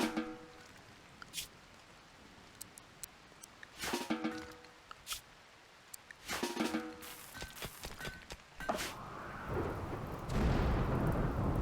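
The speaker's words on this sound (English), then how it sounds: "Here's some reprieve from the nasty storm, so you don't get wet." Stormy weather in the video game RimWorld, with bursts of thunder rumbling over a steady bed of rain, several sharp cracks and rolls spread across the stretch, the rain swelling louder toward the end.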